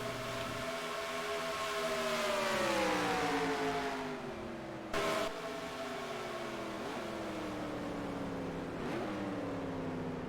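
NASCAR race cars lapping the Daytona road course in NR2003, a steady droning engine tone that rises and falls in pitch as cars pass, with one brief sharp burst midway.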